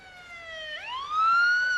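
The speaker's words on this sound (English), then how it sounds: "Look, the ambulance is here." A rising, wailing ambulance siren sweeps upward in pitch and grows louder as the vehicle approaches, sounding alone with no talk over it.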